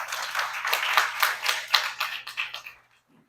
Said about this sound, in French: Je vous prie de l'applaudir encore une fois.